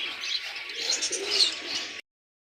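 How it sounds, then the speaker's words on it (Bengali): Chinese teddy pigeons cooing at a busy pigeon market, a continuous close, soft burbling coo for about two seconds before cutting off abruptly. "চীনা টেডি কবুতর জোড়াটা দেখেন"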